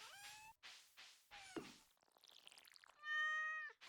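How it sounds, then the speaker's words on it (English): A cat in the farming video game Stardew Valley gives several short, clear meows in quick succession, followed by a soft pouring sound and a bright chime, all fairly quiet and with no talk. "Ooh, and our cat needs some water."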